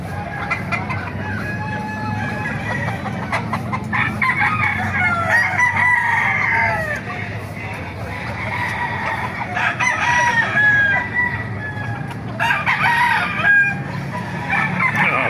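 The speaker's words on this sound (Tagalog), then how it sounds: "Maraming manok rin dito sa Baliwag." Several chickens cluck and a rooster crows nearby at a pet market in Baliuag, Philippines, a busy overlapping chorus of fowl calls with faint background noise.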